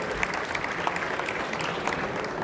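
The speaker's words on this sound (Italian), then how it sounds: "io farei un applauso a Beppe" Applause from an audience at a restaurant expo cooking demonstration, steady and fairly dense clapping from a modest crowd, continuous for a couple of seconds.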